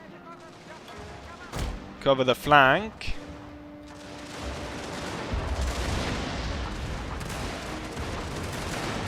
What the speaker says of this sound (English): Is there enemy cannon fire? It seems like it.